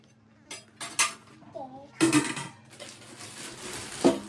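Steel pot lids and dishes clink and clatter in several short bursts, close by, with brief pauses between.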